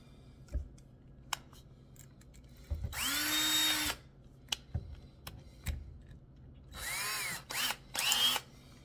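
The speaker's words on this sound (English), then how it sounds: "I've got the drill bit, I've got the drill." A power drill spins up in short bursts while working into pallet wood for a shelf, a quiet room punctuated by one longer whirring run, several brief revs and scattered clicks and knocks between them.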